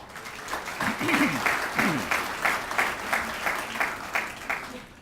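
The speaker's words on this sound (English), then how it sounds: "Give yourselves a round of applause." An audience at a veterans appreciation event claps in a loud, lively round of applause with a pulsing, rhythmic quality, while a few whoops and cheers rise briefly above it.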